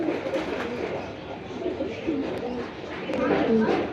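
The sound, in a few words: pigeon pair cooing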